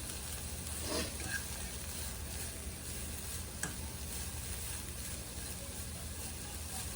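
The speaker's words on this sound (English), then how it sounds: "So I'm just gonna let these carrots cook without the top. Okay, just let them just cook inside the pan." Shredded carrots cook uncovered in a pan with a soft, steady sizzle, faint and even throughout, with a couple of light clicks.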